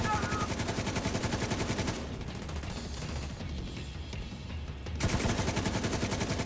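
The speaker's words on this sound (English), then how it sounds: "Shotguns." Shotgun fire in the video game The Division 2 comes as rapid, loud, repeated blasts in dense bursts, with a brief quieter stretch between volleys before the firing resumes.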